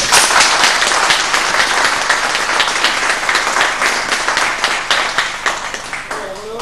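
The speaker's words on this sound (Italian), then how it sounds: "Un applauso a tutti." Loud, close applause from an audience at a public gathering, many hands clapping in a dense, slightly uneven rattle that fades somewhat toward the end.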